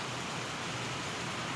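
Heavy rain pours down steadily in Kothagudem, a dense, even hiss of downpour with no breaks, filling the whole stretch without any voices.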